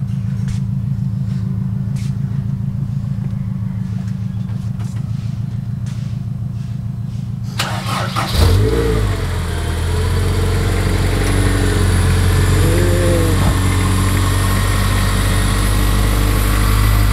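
Honda S2000 AP1 engine, first a loud, even idle-like rumble, then a sharp start-up burst settling into a steady, louder idle with two brief revs, recorded close.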